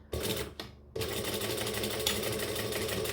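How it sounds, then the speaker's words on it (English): A sewing machine stitches vinyl on a number 4 stitch length, two short starts followed by a steady, close, rapid mechanical chatter running to the end, with no talking. "And then I'm going to stitch above my little rectangle space."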